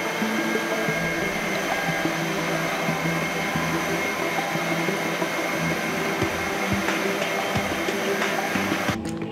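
A CNC machine mills custom MOA crawler chassis plates, giving a loud, continuous high-pitched whine with steady cutting noise and faint rhythmic ticks, running alone without pause.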